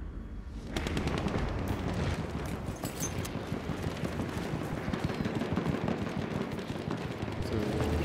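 Rapid bursts of gunfire from Battlefield 1 multiplayer combat, dense overlapping shots and rattling automatic fire running continuously and loudly throughout.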